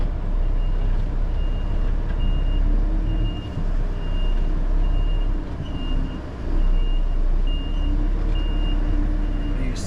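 An HGV articulated lorry reversing into a tight yard on narrow Manchester streets sounds its regular backup beeper, a steady repeating tone over the deep rumble of the idling diesel engine.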